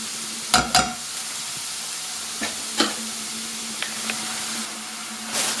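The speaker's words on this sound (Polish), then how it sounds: "Cebula z pieczarkami się dusi" Onion and mushrooms stew in a pan over very low heat, giving a soft, steady sizzle punctuated by a few scrapes and clacks of stirring, close and fairly quiet.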